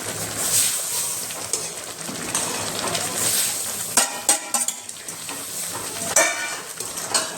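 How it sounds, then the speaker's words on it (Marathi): Roasted semolina is tipped into a pan and stirred for upma, giving a soft sizzle with sharp spoon scrapes and clanks bunched in the second half, while birds chirp faintly in the background. "हा रवा भाजून घेतलेला आहे तो घालून घेणार आहे तसा थोडा थोडा घालायचा आणि हलवून घ्यायचा"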